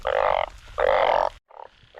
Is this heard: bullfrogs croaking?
yes